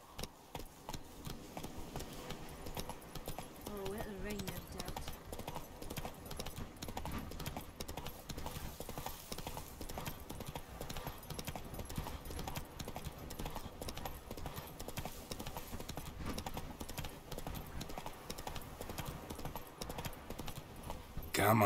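Horse hooves clip-clopping steadily as Roach, the horse in The Witcher 3, trots along, a continuous moderately loud rhythm over game ambience with occasional voices.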